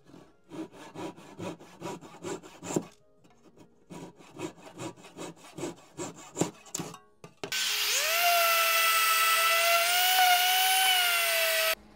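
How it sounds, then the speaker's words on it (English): A fine dovetail saw cuts wood on a baseball ring display in quick, even back-and-forth strokes, two close bursts of sawing separated by a short pause, then a loud steady electric whine from a power tool. "I'm going to use a dovetail saw."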